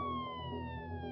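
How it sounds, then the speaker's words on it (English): A police siren wails from the street, with a steady tone sliding slowly downward, fairly loud and heard alone for about a second. "the sound of a police siren came from the street."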